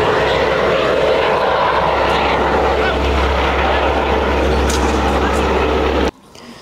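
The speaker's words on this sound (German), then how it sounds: "Hier ist gerade der Rettungshubschrauber gelandet." A loud, close rescue helicopter lands, droning steadily with a deep, throbbing rotor hum for several seconds, then cuts away abruptly.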